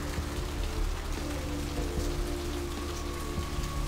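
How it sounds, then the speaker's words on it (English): Steady rain pattering down in a dark alley at night in the video game Bloodlines, a continuous close wash of drops on hard surfaces with a low hum beneath, with no talking. "To be standing in a dark alley while it's raining."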